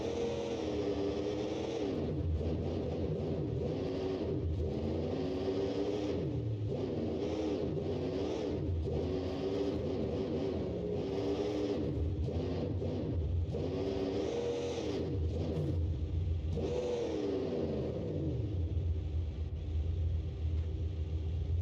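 A diesel monster truck engine with pipes idles in BeamNG.Drive, a steady close, loud rumble that rises now and then into short revving swells and lasts the whole stretch with no talk over it.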